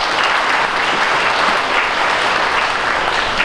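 Sustained, dense applause from an audience at an anniversary celebration marking thirty years of a company's activity, loud and steady throughout with no voices over it.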